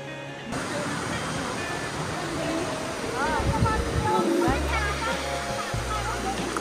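A waterfall roars in a steady broadband rush of falling water, close and continuous, with people talking over it and a deeper rumble near the end.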